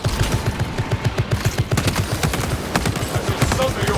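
A sustained volley of gunfire in the video game Space Marine 2, a rapid rhythmic stream of thudding shots layered with sharper cracks and dense battle noise, loud and continuous.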